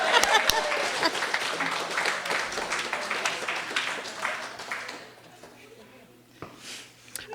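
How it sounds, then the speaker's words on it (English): Audience applause and clapping at a Words Aloud spoken-word event, a dense steady burst for about five seconds that then thins out and fades, with a cheer or voice rising briefly near the end. "He doesn't know he's going to get a round of applause"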